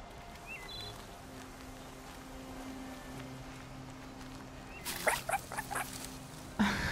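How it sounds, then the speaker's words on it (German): A rat in the video game Horizon Zero Dawn, with faint squeaks over a quiet ambient forest bed, then a brief cluster of scurrying patter and a short louder rustle near the end. "Ratte."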